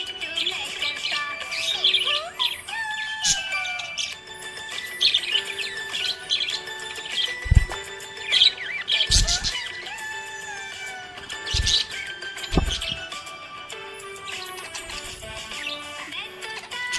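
A happy pet budgie chirps and tweets in quick, bright bursts across the whole stretch, its calls repeating irregularly, with a soft tonal background and no talking.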